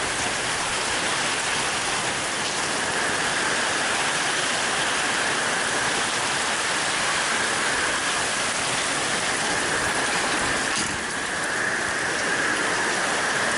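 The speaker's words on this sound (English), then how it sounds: "we got one of the rain bands from Hurricane Matthew coming in" Heavy rain from a Hurricane Matthew rain band pours down steadily and loudly, a dense, even wash of drops striking surfaces all around, with no voices.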